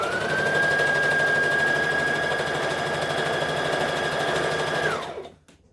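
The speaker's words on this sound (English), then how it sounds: "So I'm going to take this dart and make sure it's also sewn downwards into the seam." A sewing machine stitches a dart down into a seam with a steady, close, fast-running whir and hum that holds evenly for about five seconds, then winds down and stops.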